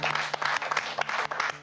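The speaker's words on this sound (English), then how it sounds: "Let's give him a big round of applause." A short burst of rapid, steady hand clapping comes from a small group at a spelling quiz on an educational TV show, with no speech over it.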